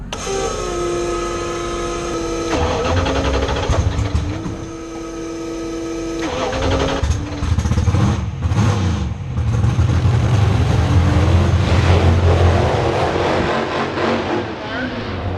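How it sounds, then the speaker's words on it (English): A coolant circulation pump runs steadily with a constant mechanical whine and hum, overlaid by shifting rattles and clunks from nearby equipment. "just turn the pump on. Let it run and it circulates the coolant."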